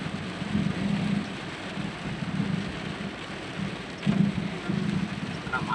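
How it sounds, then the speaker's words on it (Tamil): Steady rain falls outdoors in Kothagiri, a dense, even wash of patter with no speech over it. "ஆனால் மழை வந்தாலும் நல்லா தான் இருக்குது."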